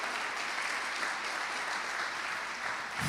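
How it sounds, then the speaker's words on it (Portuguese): A church congregation claps in praise, a dense, steady wash of applause filling the room throughout at even loudness. "Bate palmas para Jesus."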